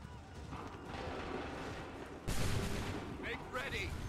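Musket volleys in Assassin's Creed 3, a ragged crackle of distant shots followed by a loud, sharp massed volley, with battlefield noise and shouting voices throughout.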